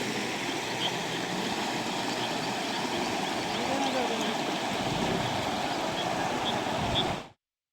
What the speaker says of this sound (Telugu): రోడ్డుపై వంపు వాగు ఉధృతంగా ప్రవహిస్తుంది